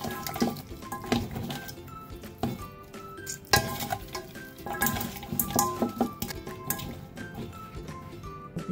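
Raw chicken feet, rubbed with salt and cornstarch, rinsed under running water: wet splashing and squelching with scattered clinks, fairly close and steady throughout.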